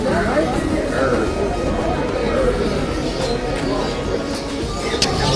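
Pigeons and doves coo amid the crowded bustle of the Doha bird market, mixed with chatter and steady background noise that persist throughout.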